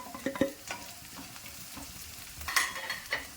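Diced onion cubes hitting a hot pan and being stirred while frying for gobi manchurian, with soft sizzling, scraping spoon strokes and a few louder clatters, close and quiet with no talking.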